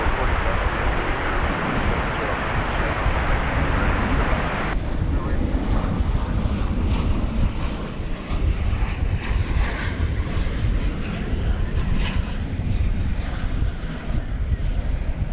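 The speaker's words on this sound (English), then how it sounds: "The America West Retro livery going to Tucson, Arizona, an Airbus A321" An America West retro-livery Airbus A321 taking off at DFW Airport, a loud, rushing jet roar with wind buffeting on the microphone that thins partway through and then continues as a steadier rumble, with faint talk underneath.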